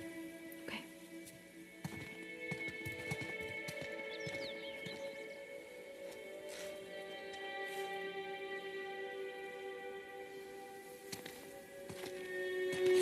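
Horse hooves clip-clopping in The Last of Us Part 2, a few faint irregular thuds under a steady tonal game soundscape, with some quiet movement noises.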